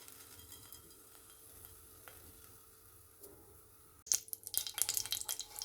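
Mustard seeds crackle and sizzle in hot oil in a kadai. The sound starts as a loud burst about two thirds of the way through, after quiet kitchen background, and continues as close, busy popping until the end.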